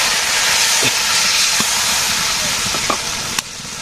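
Water hits a hot cooking pan in a village kitchen and sets off a loud, steady steam hiss, broken by a few small pops and crackles.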